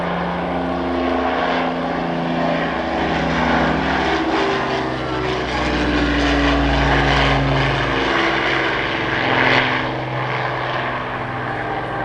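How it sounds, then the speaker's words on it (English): A Supermarine Spitfire flies past with its propeller engine droning loud and steady, the pitch shifting slightly as it passes, alone without talk. "Here comes the Spitfire to rejoin the mothership."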